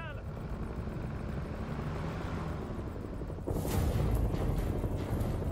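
Helicopter flying in the video game House of Ashes, a steady dense rotor drone that grows louder and fuller partway through, with no talk over it.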